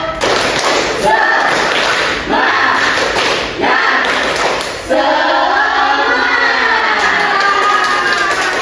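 Primary school pupils in a classroom perform a rhythmic clapping chant together, groups of sharp claps in bursts with children's voices chanting over them, loud and near.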